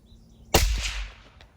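A single sharp gunshot from a 20-inch fluted-barrel DMR rifle rings out after a quiet lead-in, loud and close, with a brief echo decaying over the next half second and a faint later crack.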